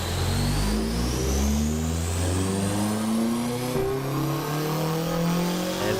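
A Honda K24 engine revs hard and loud with rising and falling harmonic sweeps, shown off by a crossover donk setup, running continuously and close up with no talk over it.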